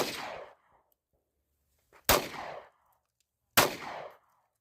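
Three loud pistol shots from a Tisas PX5.7 at an outdoor range, each a sharp crack with a short ringing tail, fired well apart with silence between.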